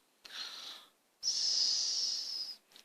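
A voice imitates snoring with two breathy, wheezy snores, a short one and then a longer drawn-out one, close and fairly soft.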